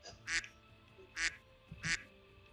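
A duck quacks as a sound effect three times at a steady pace, each quack clear and fairly close, with faint background noise between them.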